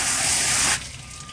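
A quick spray of water rinsing down a concrete truck, a loud steady hiss that cuts off abruptly, leaving quiet background.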